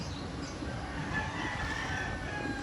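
A rooster crows faintly in the distance, partly buried under steady broadband noise that holds throughout.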